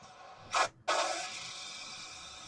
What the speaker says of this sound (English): Got the emergency brake.